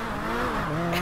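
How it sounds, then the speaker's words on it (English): McLaren sports car engine, loud and close, a brief sustained droning growl with a rising and falling pitch as it revs. "Yo, my vehicle is so loud. This McLaren is loud."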